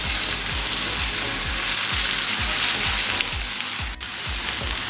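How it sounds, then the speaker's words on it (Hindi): Ground cumin and garam masala frying in hot oil on a tawa while cooking mutton chops gravy, a loud steady sizzle with a regular pulsing scrape of stirring throughout. "1 मिनट के लिए इसको भी फ्राई कर लेंगे।"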